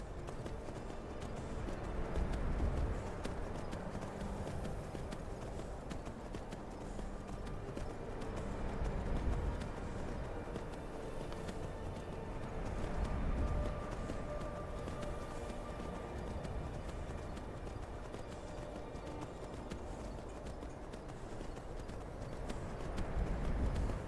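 Horse hooves galloping in Skyrim, a steady run of muffled clip-clop beats carrying on for a long stretch, fairly soft and even, with no talk over it.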